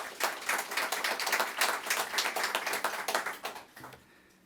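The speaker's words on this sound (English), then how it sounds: "So let's give Daisy a big round of applause." An audience breaks into dense, sustained applause at a ribbon-cutting ceremony for CUNY in the Heights, many hands clapping steadily and loudly before the sound quickly dies away in the final half second.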